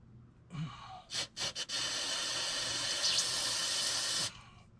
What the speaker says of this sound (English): We'll spray out our injector same as before.